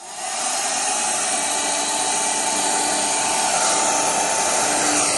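A heat gun blows a steady, loud whooshing roar while shrinking heat-shrink tubing over a braided headphone cable, starting after a brief quiet moment and then holding constant and close with no talk.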